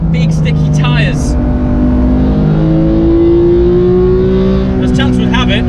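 A Porsche GT3 RS with its naturally aspirated engine is heard from a following car on a circuit, a steady loud engine drone rising gradually in pitch as it revs, with brief talk at the start and end.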